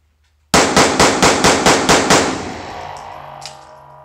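Sig Sauer P365 pistol fired in a rapid string of about eight loud, evenly spaced shots, close by, followed by a lingering echoing decay and a faint clink.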